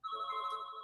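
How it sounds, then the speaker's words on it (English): A telephone rings with one sustained electronic tone, clear and close, lasting under a second with no voices over it. "sorry about that phone"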